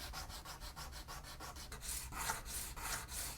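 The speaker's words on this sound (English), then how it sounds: "I think what I'm going to do is sand this flat" Sandpaper rubbed back and forth across a plastic headphone volume knob to flatten it, a quiet, steady rhythmic scratching of repeated strokes, close by and alone.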